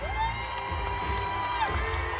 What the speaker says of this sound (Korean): 많은 지지자 여러분들의 큰 환호와 함께